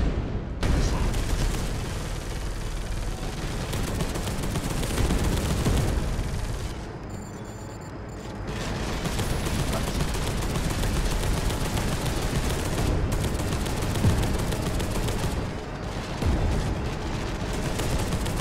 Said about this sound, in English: There is a lot of gunfire and explosions right now.